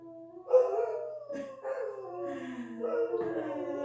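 Several dogs howl together close by, their long wavering voices overlapping and rising and falling in a sustained chorus with short yips mixed in.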